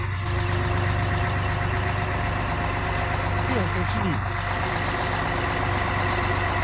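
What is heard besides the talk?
trucks at a custom car show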